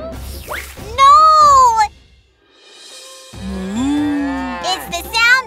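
A cartoon cow gives loud, drawn-out moos, one near the start and a longer one after a brief pause, with bright synthetic overtones and little else around them.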